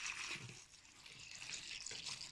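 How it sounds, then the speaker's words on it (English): Water poured slowly and gently from a bucket holding about four liters into a worm bucket, a steady close splashing trickle running continuously without talk. "a bucket with about 4 liters of water inside, which I will then pour into the bucket"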